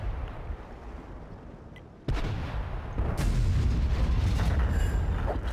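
An artillery gun in a tank battle game fires with one sudden heavy boom, followed by a sustained loud rumble and battle noise. Quieter ambience comes before the shot.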